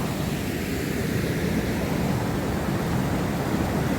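A small waterfall rushes with a steady, even, broadband hiss that holds constant throughout, fairly close and unbroken, with no voices.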